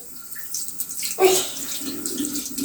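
Tap water running in a home as a child washes hands and face, a short soft rush of flowing water in a quiet room, close and brief.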